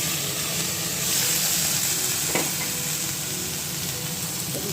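Roti cooking on a hot pan at home, a steady broad sizzling hiss that carries through the whole stretch with one brief clink, close and fairly loud.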